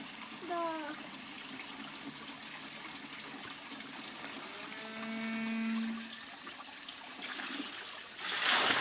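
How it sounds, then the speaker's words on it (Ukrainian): A wooden water wheel fills its buckets and turns: water trickling and splashing in bursts with a faint creak of wood, a brief gush spilling near the end, close by. "Воно набирає в ячейку води і потім під вагою прокручує"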